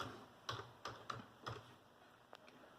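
A computer keyboard is tapped to type a short file name, with about half a dozen separate keystrokes in an uneven rhythm, close but quiet, with no talking.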